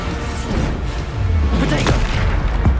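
Bombarda spell explosions in Hogwarts Legacy, deep booming blasts over a constant roar of combat, with a couple of sharper impacts toward the end.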